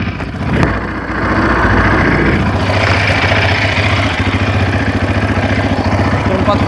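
A quad bike engine starts and settles into a steady, loud, rumbling idle close by; the engine is not running well.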